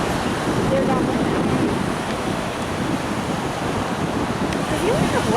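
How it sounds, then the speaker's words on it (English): Ocean surf washes onto the beach at Myrtle Beach, a continuous loud roar of breaking waves mixed with wind buffeting the microphone, steady throughout with no clear gaps. "I can't hear you over the waves."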